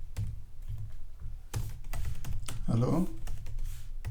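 Someone types on a computer keyboard while writing a line of code in Jupyter Notebook. The clicks are quick and uneven, mixed with a person talking.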